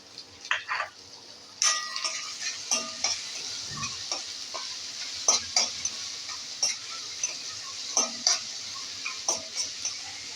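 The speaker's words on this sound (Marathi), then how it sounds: "मोठा गॅस ठेवून फक्त परतायचा आहे आता आपण हा कांदा घालून घेतला आहे" Onion stir-fried in a pan over a high flame for veg Manchow soup: a steady bright sizzle runs throughout, broken by a regular stream of sharp spatula scrapes and taps against the pan.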